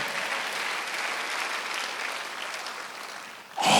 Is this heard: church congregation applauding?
yes